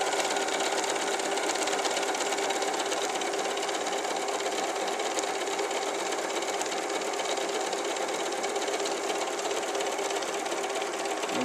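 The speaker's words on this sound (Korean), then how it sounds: "12번이 핸드 스티치 효과 버튼입니다." An Elna Lotus sewing machine stitches its hand-stitch effect pattern, a steady, loud, continuous mechanical whirr with fast needle chatter that runs unbroken throughout, with no voices.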